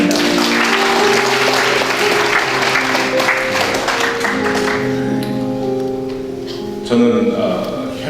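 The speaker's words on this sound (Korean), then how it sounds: "나오실 때 박수로 환영하겠습니다." Applause from a church congregation at a thanksgiving service welcomes a pastor to the front, a dense clapping crowd that is loud at first and slowly thins, with voices and some musical tones mixed underneath.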